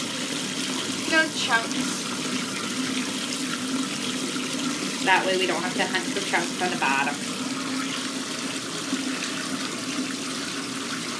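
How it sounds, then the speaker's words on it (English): Tap running steadily into a sink while a strainer is used to prepare a cocktail, a continuous rushing hiss of water under brief bursts of nearby speech. "I'm going to turn the water up a little bit."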